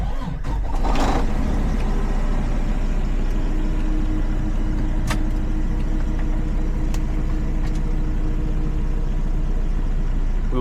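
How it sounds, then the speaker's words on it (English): A tractor-trailer truck engine cranks and catches with a short burst of noise, then settles into a steady, rumbling idle close by. "we'll start the truck"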